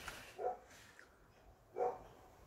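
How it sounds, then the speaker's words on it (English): Two faint dog barks sound from a distance, spaced over a second apart, in an otherwise quiet room. "Whose dog's barking?"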